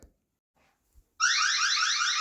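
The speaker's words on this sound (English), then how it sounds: "I've got the motion detected alarm, the siren" After near silence with a couple of faint clicks, a eufy Solo OutdoorCam Pro C24 security camera's loud electronic siren abruptly starts on detecting motion, rapidly warbling up and down in a continuous alarm tone.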